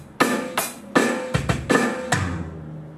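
Drum fill at bar 26 of a rock track: a rapid run of about seven punchy strokes mixing deep tom thuds and bright crashes, ending in a ringing cymbal tail, heard alone at close range.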